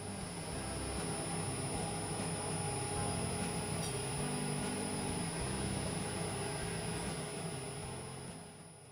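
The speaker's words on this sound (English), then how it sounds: "Press the start rotation button, wait until the rotation speed is reached and the measurement starts." A BVI-03-88 cardan shaft balancing machine spins its rotor, giving a steady, even mechanical hum and whine at a constant pitch, moderately faint with no voices.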